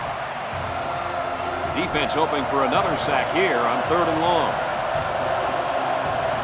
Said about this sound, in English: That crowd is definitely playing a factor now.